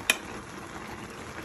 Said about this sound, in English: we have your black beans cooking, or whatever beans you like